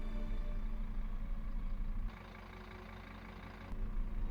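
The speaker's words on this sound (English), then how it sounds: "Let's get this tractor fired up." A tractor engine in the Farming Simulator 25 video game rumbles with a low, steady drone. It drops quieter midway, then swells back up, and no one talks over it.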